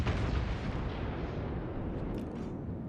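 Torpedo hits exploding against a ship in the naval battle game World of Warships, a heavy, rumbling blast that fills the clip from the start and slowly decays into a long roar, loud and close, with no talking.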